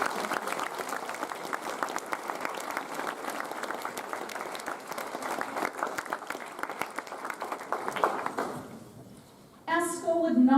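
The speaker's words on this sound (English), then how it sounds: "let's give them a big round of applause for all their hard work" Audience applause at a Cashmere High School Year 10 prize giving, sustained clapping from a large crowd for about eight seconds before fading, followed by a brief noise near the end.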